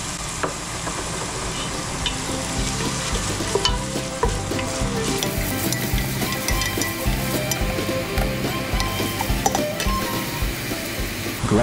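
Minced ginger and chopped onions sizzle and fry in a pan, a steady close crackle with occasional stirring clatter throughout, cooking for a squid dish.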